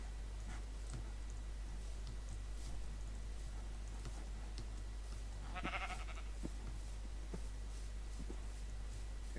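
A sheep bleats once in the Minecraft survival video game, a short nasal game sound effect in the middle, over a constant low hum and faint scattered clicks.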